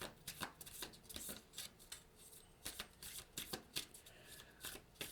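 Affirmation cards shuffled by hand, a steady run of soft riffling and flicking bursts repeating close up throughout, with no talking.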